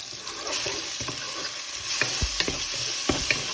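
Garlic and ginger sizzle loudly in a hot pan while a utensil stirs and scrapes, with a few sharp clinks against the metal.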